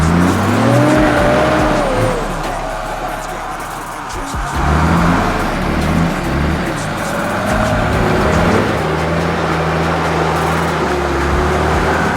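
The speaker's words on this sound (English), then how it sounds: "it's still spinning wheels" A car's wheels spinning on a muddy mountain track slicked to ice by torrential rain at Mt Sunday, the engine revving loud and steady with rising and falling whine over continuous tyre churn, close by throughout.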